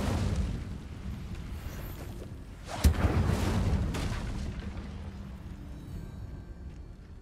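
Incendio fire spell cast in Hogwarts Legacy: a sudden bright burst flaring into a roaring whoosh that fades over about a second, set against a steady low game ambience.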